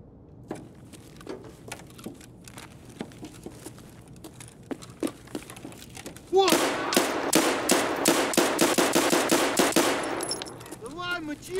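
In the game Escape from Tarkov, a pistol fires a string of sharp shots. Scattered single clicks and shots come first, then a rapid, loud volley of gunfire lasts several seconds.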